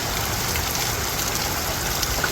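A heavy downpour during a flood keeps pouring as a steady, loud wash of rain and rushing water, with no voices.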